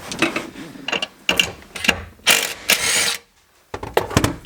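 A hand ratchet loosens a seat bolt under a Nissan GT-R, its clicking strokes coming close and loud in quick bursts with short pauses between them.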